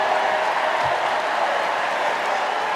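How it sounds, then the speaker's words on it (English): Steady crowd applause and cheering for Sarah Silverman's speech at a political rally, a dense, continuous roar of clapping with no break, loud and even throughout. "In spite of the cheering and maybe some booing"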